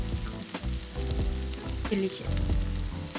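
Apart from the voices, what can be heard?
Korean pancake with enoki mushroom and vegetables frying in pan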